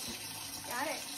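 Water runs steadily from a kitchen tap in a brief, quiet, continuous hiss and splash, with a faint voice briefly audible partway through.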